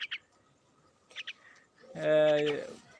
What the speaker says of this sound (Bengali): এটা শালিক পাখি